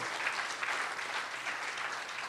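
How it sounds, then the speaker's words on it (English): Audience applause for performers at a UNICEF mid-term review opening, a steady, fairly faint wash of clapping from a crowd lasting the whole short stretch. "Let us give those who performed a tremendous round of applause again."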